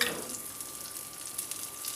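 Onion goes into rice and lentils already frying in hot oil for a Salem-style tomato sambar, giving a steady, moderate sizzle with a brief louder crackle at the start and no talking.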